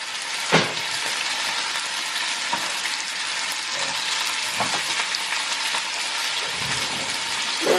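Ground hamburger meat sizzles steadily while frying in a pan, a continuous bright crackle with a few sharper pops and scrapes, close and fairly loud with no talking.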